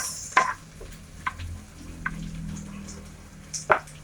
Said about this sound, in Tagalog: So po guys, pagka nagigisa, maraming sibuyas